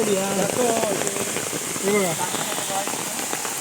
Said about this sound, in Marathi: पाऊस लागायला लागलो सुरुवात झाली आहे